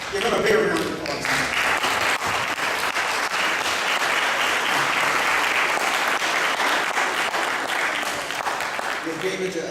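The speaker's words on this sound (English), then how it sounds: "Give him a big round of applause." Sustained audience applause fills the room after a lecture, loud and dense from start to finish, with a voice briefly heard at the very beginning and end.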